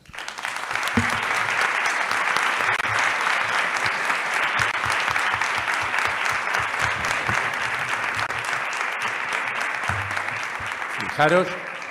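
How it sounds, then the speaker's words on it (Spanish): Sustained audience applause fills the hall after a lecture on restorative justice, a dense, loud wash of clapping that runs steadily for several seconds before fading, with a few voices breaking through near the end. "Nada más escuchar el aplauso"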